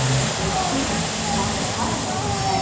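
At the Rainforest Cafe in Galveston, an indoor waterfall gives off a steady, loud, full-band rushing hiss. It holds constant and unbroken for the whole stretch.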